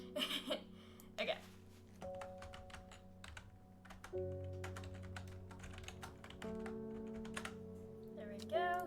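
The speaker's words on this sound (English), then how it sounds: "This keyboard is very loud." A loud computer keyboard typed on during a livestream of the game Strange Horticulture: bursts of crisp, close key clicks and clacks over a quiet, steady hum of background music tones.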